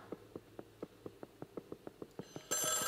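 A telephone rings in the video game Luigi's Mansion 3: a quick, even series of about a dozen short ring pulses, then a sudden loud burst of broadband noise near the end.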